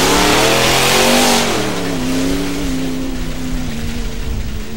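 A pulling truck on paddle tires launches off the line with a loud, sustained engine roar that climbs in pitch and then holds steady as it pulls away, close by.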